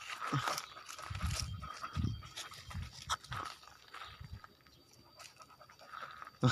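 A dog pants in short rhythmic bursts close by, breathing hard after running on a chain, with scattered rustling and crinkling around it and no talk.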